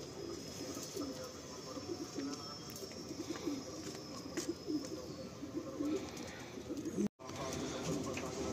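Pigeons in a Kolkata loft coo softly and repeatedly in soft, throaty bursts, with light rustling and a brief dropout near the end.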